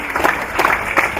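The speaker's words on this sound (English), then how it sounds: "Round of applause there for James." An audience applauds at a rodeo awards presentation function, a short burst of loud, close clapping with a few individual claps standing out.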